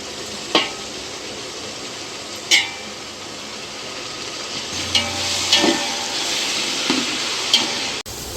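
Tomatoes sauté in a pan for mutton dum biryani, giving a steady frying sizzle broken by a few sharp clinks and stirring knocks, close and moderately loud, with no talk.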